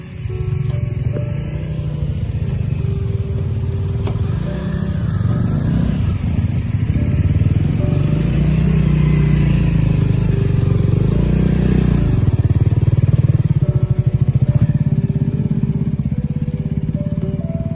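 A motorcycle rides along a pitch-dark road at night on a trip to Bokor, its engine a steady close drone with low rumble throughout, rising slightly in intensity midway, with no talking.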